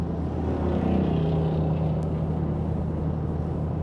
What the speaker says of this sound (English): This car about to come flying.